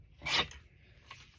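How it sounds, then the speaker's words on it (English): Scissors make one short, crisp snip through glossy magazine paper during collage work, close and alone, followed by a faint second rustle. "We'll just cut this top one off, make it easy."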